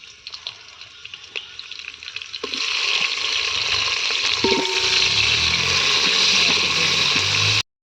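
Chopped tomato is dropped into a hot pan for a village-style chicken biryani and rassa, bursting into loud, continuous sizzling and frying after a quieter opening with a few faint clinks.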